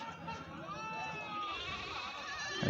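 Goats and sheep bleat at a busy rural livestock market, several wavering calls overlapping one another against a steady crowd murmur, moderately close.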